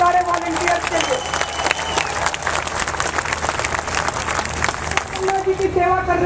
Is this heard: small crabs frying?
no